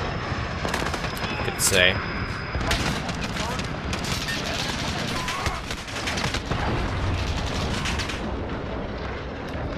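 Sustained rattling automatic gunfire in Modern Warfare, dense and continuous near and far, with a whistling effect early on and a voice talking briefly over the shooting.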